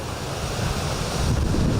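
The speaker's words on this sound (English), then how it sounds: "waves crashing onto Vancouver Island today as Environment Canada warned of winds gusting up to 100 kilometers an hour" Waves crash onto the Vancouver Island shore in high winds gusting near 100 km/h, a loud continuous roar of surf mixed with buffeting wind noise on the microphone.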